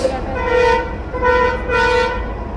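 Loud honking horn tones sound in three bursts close by, over the low rumble of traffic.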